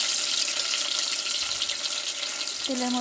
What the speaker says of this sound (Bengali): এবার পেঁয়াজ আর কাঁচা লঙ্কা একসঙ্গে বেটে রেখেছিলাম, ওটা দিয়ে দিলাম তেলের মধ্যে।